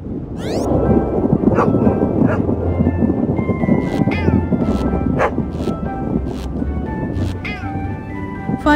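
A dog barks and yips repeatedly in short, sharp bursts over a dense, steady background of noise and faint voices, the barks fairly close and loud.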